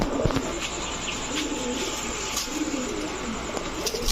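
Several Naphta pigeons from Old Dhaka coo in low, repeated rolling calls, close by, over a steady background hum with occasional faint chirps.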